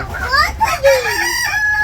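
A rooster crows with a rising, drawn-out call, while hens cluck nearby in a farmyard; no one speaks.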